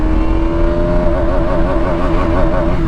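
A KTM Duke motorcycle accelerates hard through first gear and beyond, its engine note climbing steadily in a loud, continuous rising drone close by, with no talk.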